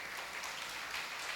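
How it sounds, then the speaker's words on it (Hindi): Weak, scattered clapping from a small audience at a Hindi religious discourse in Tikamgarh, a soft brief patter of applause. "तुम तालियां भी ऐसे बजाते हो जैसे अस्पताल।"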